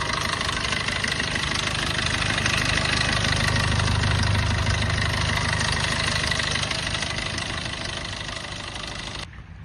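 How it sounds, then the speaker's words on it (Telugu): The diesel engine of a 2018/19 Maruti Suzuki Vitara Brezza ZDi idles steadily and loudly, a continuous low rumble that eases off slightly near the end before cutting out abruptly. "ఒక్కసారి ఇంజన్ ఆన్ చేసి చూస్తాను"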